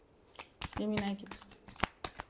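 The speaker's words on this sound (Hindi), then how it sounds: "Last shuffle." Tarot cards being shuffled, a couple of quick papery riffles and flicks over a quiet room, with a voice speaking briefly in between.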